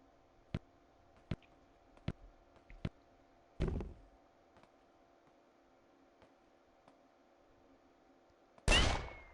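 Gunshots in the accessible iOS shooter game Mindshot: several sharp, evenly spaced single shots, then a heavier blast with a short decay, a quiet gap, and a final loud burst.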